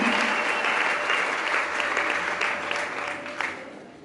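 Audience applause at a gathering, continuous close clapping that holds steady and tapers slightly near the end, with faint voices mixed in.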